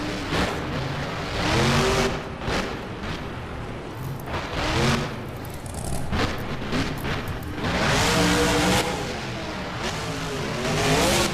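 Simulated monster truck engine in BeamNG racing along a freestyle course, revving and surging repeatedly with loud throttle swells and a few brief tire noises, continuous and close throughout.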